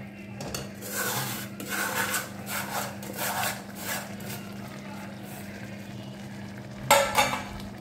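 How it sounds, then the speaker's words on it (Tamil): A spoon scrapes and stirs semolina and vermicelli in a pan, rhythmic rubbing strokes at close range over a steady low hum, ending with a sharper clatter near the end. "ரவையை ஆட் பண்ணும்போது நீங்கள் அந்த மாதிரி இது கிண்டிகிட்டே தான் வந்து ஆட் பண்ணணும்"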